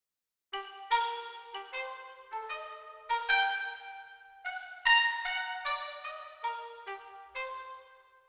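In the Hall at Air Lyndhurst, trumpets doubled with xylophone play a lively, detached melody of short bright notes that ring a little longer in the roomy acoustic, heard on their own at modest level.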